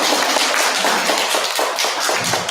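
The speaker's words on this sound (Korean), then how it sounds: "네, 박수 한번 주세요." Loud, close clapping from a Buddhist temple congregation at a Sunday family service, brisk and continuous with individual hand claps audible in the mix.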